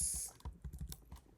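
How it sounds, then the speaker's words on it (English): Fingers tapping a computer keyboard while a product is added in a website builder: a short run of soft, close clicks and key presses with no talk. "Click on enter on your keyboard"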